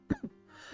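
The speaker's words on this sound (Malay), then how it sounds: "Maafkan saya, batuk." A man coughs twice in quick succession during a science lesson, close and fairly quiet, then a softer throat-clearing follows.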